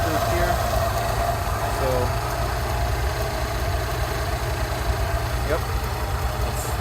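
A Rolls-Royce Silver Shadow engine idles at about 600 RPM during carburettor tuning, giving a steady, close, low rumble that holds throughout, with someone speaking briefly over it.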